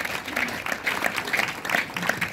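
A church congregation at a Christmas seminar applauds steadily, a dense patter of clapping hands with a few cheering voices mixed in, moderately loud and continuous throughout.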